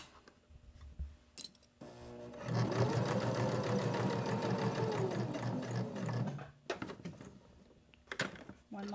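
A home sewing machine runs steadily for several seconds while back stitching over elastic on a small beginner soap holder project, with quieter handling clicks and pauses before and after the run.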